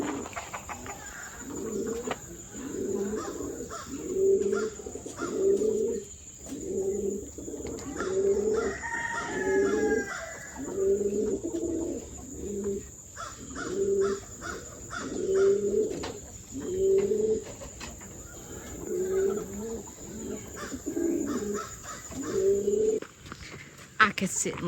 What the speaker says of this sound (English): Listen to the pigeons.